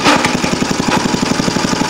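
A small go-kart engine with a freshly repaired no-compression fault fires up and runs at a fast, even putter, loud and close throughout with no voices.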